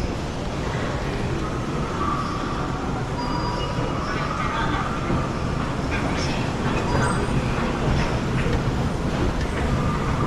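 Inside a Seoul Subway Line 9 train, a steady loud rumble of wheels and track noise fills the whole stretch without letting up, with faint murmuring voices mixed in.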